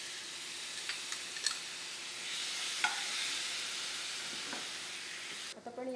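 Grated coconut stirred in a pan for modak filling, a faint hiss with scattered scraping and clicking stirs, close but quiet, ending in a short rustle.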